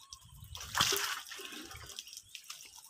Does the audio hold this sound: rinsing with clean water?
yes